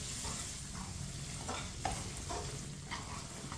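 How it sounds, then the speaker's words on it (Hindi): Spoon stirring moong dal halwa mixture with chopped dates and raisins in a pan, a soft steady scrape under continuous gentle sizzling, with small clinks and taps recurring close by. "इसे ऐसे ही चम्मच चलाते हुए पकाएं"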